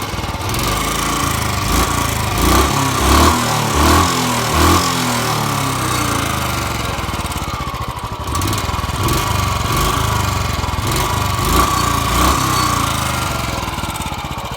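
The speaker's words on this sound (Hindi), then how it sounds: "सिर्फ एक किक के अंदर बाइक स्टार्ट हो गई" A Royal Enfield Bullet Standard 350 motorcycle runs after a single kick start, its thumping single-cylinder engine loud and close with a steady idle and a few throttle blips.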